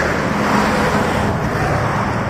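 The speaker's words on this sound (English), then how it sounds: "it's a busy highway through the centre of town" Steady traffic on a busy highway running through a town centre, a constant wash of cars and heavier vehicles rolling past at moderate distance, with no speech.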